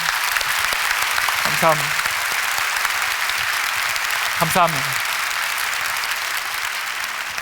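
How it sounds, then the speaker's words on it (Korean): Audience applause at a large prayer gathering, a steady wash of clapping throughout, with a speaker's voice briefly breaking in twice over it. "여러분 박수 한번 보내주시면 큰 힘이 될 것 같습니다."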